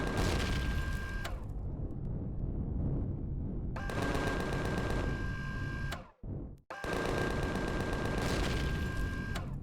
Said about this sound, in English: We can deal with the turret guns.